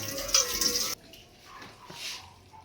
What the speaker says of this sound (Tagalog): Panoorin po natin siyang maghugas ng pechay.